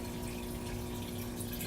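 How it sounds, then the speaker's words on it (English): Water poured gently into a home fish tank during maintenance, a steady soft trickle and splash with no voices, close and even throughout. "try to put the water in as gentle as you can"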